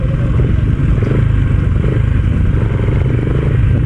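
Yamaha PG-1 motorcycle engine running steadily and loud while riding through mountain mud, a constant close rumble with some clatter from the bike.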